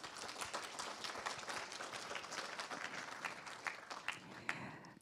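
Audience applause opens a 2025 university New Year opening ceremony in a hall, many hands clapping steadily and densely for about five seconds, fairly distant with no speech over it.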